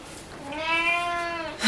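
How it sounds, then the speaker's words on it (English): A single drawn-out cat meow close by indoors, rising and then slowly falling in pitch over about a second, with a brief rustle just after it. "Cat."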